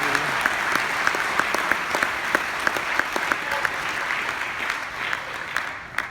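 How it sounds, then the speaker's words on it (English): An audience at a network marketing event applauds steadily, with dense, even clapping sustained from start to finish and no talking over it. "So give yourself a round of applause."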